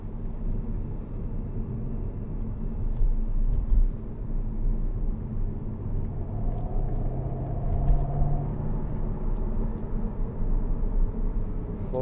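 A 2012 Jaguar XK Portfolio with a 5.0 V8 being driven, heard from inside as a steady low engine drone and road rumble with a brief rising engine note partway through, constant and close, without talk.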